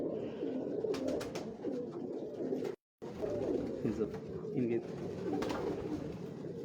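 Dub pigeons coo on a Lahore rooftop, soft repeated coos close by under a man's speech, with a brief cut of silence partway through.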